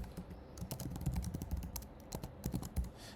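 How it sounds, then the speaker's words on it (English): Rapid keystrokes on a computer keyboard tap out an email and password, quiet close clicks in uneven bursts with no talking. "Let's type the email, also the password,"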